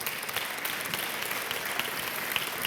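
An audience at an indoor launch ceremony claps steadily, a dense even patter of many hands sustained throughout with no voices over it.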